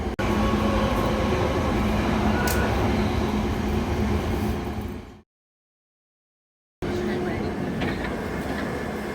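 Loud, steady rumble and roar of a London Underground Piccadilly line train running through a tunnel toward Heathrow Terminal 4, cutting to silence partway, then the roar resumes.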